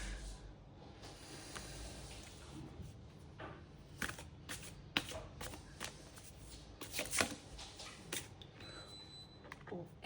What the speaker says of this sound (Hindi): तो चलिए हम और कार्ड्स लेते हैं यहाँ पे।